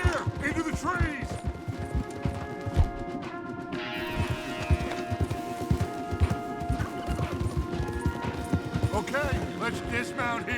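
Horses gallop in the video game Red Dead Redemption 2, with a fast, dense clatter of hooves running throughout under a game score and occasional character voices.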